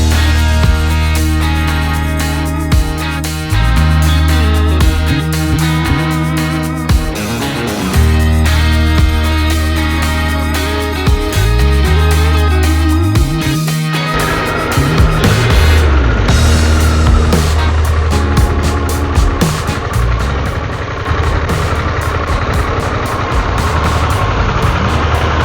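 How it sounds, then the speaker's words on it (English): A Harley-Davidson motorcycle rumbles steadily on a ride through the Texas Hill Country, its engine loud and continuous for the whole stretch, with a brighter layer of road and wind noise building in the second half. "let's go for some more beautiful motorcycle riding here in the Texas Hill"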